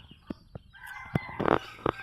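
Pet chickens in a ranging area, with scattered clucks and a rooster crowing, the calls arriving in separate bursts over a quiet farmyard background.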